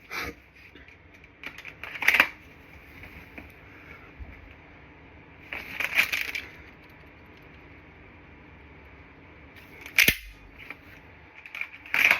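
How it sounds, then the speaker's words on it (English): A CZ P-10C pistol in dry fire practice is tapped and its slide racked, giving a few sharp metallic clacks spaced several seconds apart over a quiet background. "pull out, tap, rack, get back into the action"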